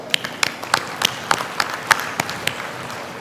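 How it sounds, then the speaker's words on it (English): Sparse, uneven clapping at a university convocation ceremony, a handful of distinct sharp claps spaced irregularly in a large hall rather than a full ovation. "well-deserved round of applause"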